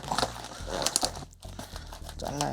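Bubble wrap around a Keychron K4 v2 keyboard crinkles and rustles as it is unwrapped, close and continuous with a brief pause midway.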